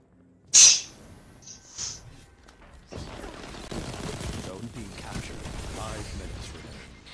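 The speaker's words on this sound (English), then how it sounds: "Ooh, took two golden gunshots." Golden Gun super shots in the Destiny video game, played on a broken controller: a sharp loud blast followed by a smaller second report, then busy gunfire and combat noise rolling on steadily.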